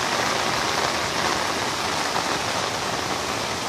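Heavy rain pours steadily during a flood, a loud, dense and continuous hiss of drops hitting water and surfaces close by, with no other sounds breaking through.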